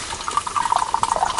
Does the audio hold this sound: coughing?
no